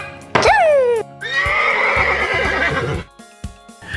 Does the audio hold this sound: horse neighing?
yes